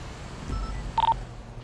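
A short burst of a telephone dialing tone in a police roleplay video game, brief and fairly clear over a quiet low background hum.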